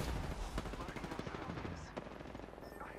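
Rapid automatic gunfire in the battle royale shooter Apex Legends, a dense burst of sharp shots at close range that fades slightly toward the end, mixed with game effects and brief voice lines.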